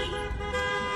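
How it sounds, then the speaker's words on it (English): Horns honking from a caravan of cars and trucks flying American and Trump flags as it passes a home in Michigan, with sustained loud blaring tones over steady traffic noise. "a caravan of cars and trucks passing by her home, honking their horns"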